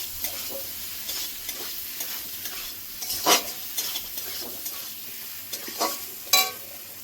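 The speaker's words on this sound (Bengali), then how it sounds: "কোয়াশ আলুটা মশলার সঙ্গে মিশিয়ে নেব।" Squash potatoes being stirred into spice masala that is frying in oil, with a steady sizzle broken by several sharp scraping clicks of the spoon against the pan. No one speaks.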